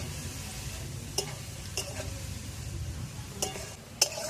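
Cabbage fries with a steady low sizzle in a pan while a spatula stirs it, sharp scraping knocks sounding at intervals over the continuous hiss.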